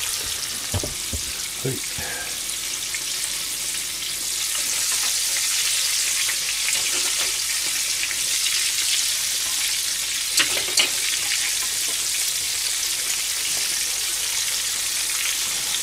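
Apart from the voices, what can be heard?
deep-frying food in oil (wonton, chicken, vegetables)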